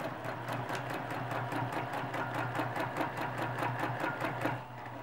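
Steady, rhythmic needle clatter from a sewing machine stitching along a circle, running continuously at close range with an even pulse and a low motor hum beneath.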